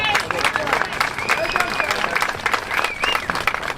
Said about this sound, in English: Huge round of applause there for Frank Roche